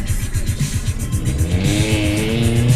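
Loud, close engine of a BMW E36 318iS drift car, revving in uneven surges as it slides sideways and spins out on a snowy day, the pitch wavering with hard throttle and tyre noise.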